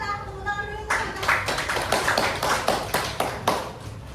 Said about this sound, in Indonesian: Tepuk tangan dulu untuk Fata.